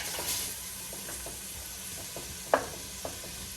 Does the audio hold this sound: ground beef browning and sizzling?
yes